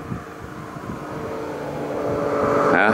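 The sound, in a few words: moped passing by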